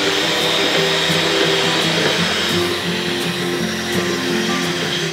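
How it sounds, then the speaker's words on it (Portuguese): An electric mixer whips five egg whites into stiff peaks for chocolate mousse, giving a loud, steady motor whir that runs continuously without pause. "Agora vou pegar uma batedeira e a gente vai bater a clara em neve"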